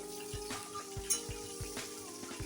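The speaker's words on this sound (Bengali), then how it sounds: "জিরাটা একটু ভাজা ভাজা হোক" Whole cumin seeds and a bay leaf fry in hot oil with a quiet, steady sizzle, with a few soft knocks sounding through it.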